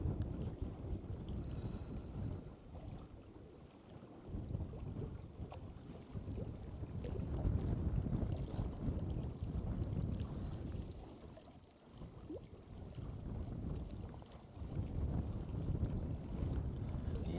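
Wind blowing across a lake in Iceland, Kleifarvatn, during an ROV drone dive, heard as steady low rumbling buffeting on the microphone with gusts swelling and easing throughout, no voices.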